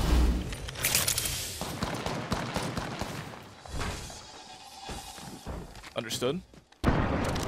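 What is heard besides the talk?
gunfire in Apex Legends video game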